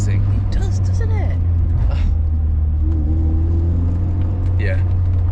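MG Montego car engine accelerating hard from inside the cabin, a steady loud low rumble and rising revs continuing under people talking throughout.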